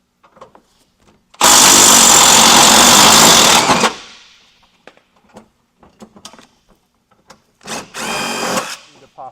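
Power drill backing out screws behind the rear fender flare of a third-generation Toyota Tacoma during a bumper install: a loud whine of about two and a half seconds, then a shorter burst near the end, with quiet handling noises between.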